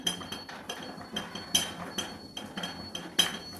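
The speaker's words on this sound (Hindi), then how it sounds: "तो इसमें मैं डालूंगी 1 चम्मच ग्लिसरीन" A metal spoon clinks and taps against a bowl while glycerin is stirred into a homemade face-brightening soap mixture, making light, rhythmic chinks about twice a second, close and clear.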